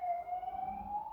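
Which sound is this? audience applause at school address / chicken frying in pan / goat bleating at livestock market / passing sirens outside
passing sirens outside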